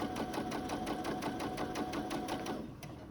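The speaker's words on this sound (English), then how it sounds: "I'm going to start, I've just got it set on a straight stitch." A sewing machine runs a straight stitch along a plain fabric seam, its needle clattering in a fast, even rhythm of about a dozen strokes before it slows near the end. The sound is close, moderately quiet and has no talk over it.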